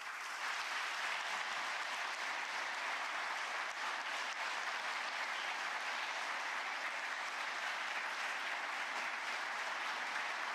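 Sustained, dense applause from a large crowd at a South Korean government public report event welcoming the President, steady and loud throughout without pause.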